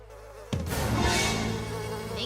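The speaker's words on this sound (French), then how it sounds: "peut-être que les abeilles sont de bonne humeur, elles" Bees buzz loudly around their nest in an animated jungle scene, a sudden swarming drone that starts after a brief quiet hum and continues steadily close by, with no talk.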